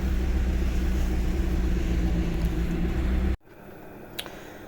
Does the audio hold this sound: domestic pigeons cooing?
no